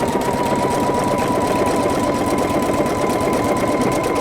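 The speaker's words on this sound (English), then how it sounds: "I'm going to go ahead and just press the start stop button." A Pfaff creative icon sewing machine stitching at a steady pace, loud and close, its motor whirring with a fast, even mechanical chatter throughout and no pauses.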